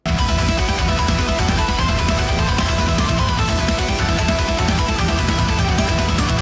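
Dense, loud technical melodic metal plays nonstop, with fast pounding drums, heavy distorted guitars and intricate melodic riffs filling every moment.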